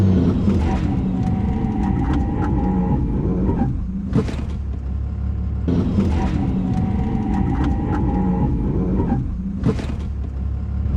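A car cruises at about 60 mph on the road, giving a loud, steady rumble of engine and tire noise with occasional brief whooshes and no talking.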